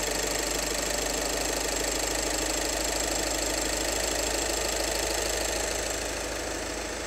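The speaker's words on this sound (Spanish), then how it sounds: "Lo pongo a 3000 revoluciones y le voy a subir" Diesel car engine with a suspected clogged DPF held at 3000 rpm, a steady dense mechanical drone with a knocking edge that stays loud and constant throughout, no voices.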